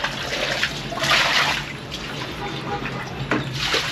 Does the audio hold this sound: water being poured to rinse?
yes